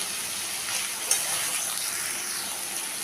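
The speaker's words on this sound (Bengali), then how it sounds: "দুটো বড় সাইজের টমেটো কুচি করে দিয়ে দিলাম একটু ভেজে নেব নরম হওয়া পর্যন্ত" Chopped tomatoes with salt fry in a pan, giving a steady close hiss and sizzle with a brief clink partway through, and no voices.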